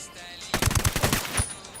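Rapid gunfire bursts in Ghost Recon Wildlands, a string of loud, sharp shots in quick succession after a moment of quiet, with faint game background around them.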